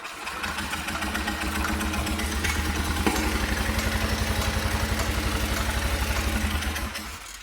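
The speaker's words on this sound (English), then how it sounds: "It sounds like a small motorcycle. Well, it's got a straight pipe on it" A small 50cc moped engine with a straight pipe idles near and steady, putting out a rapid, buzzy, popping exhaust pulse that rises briefly and then fades toward the end.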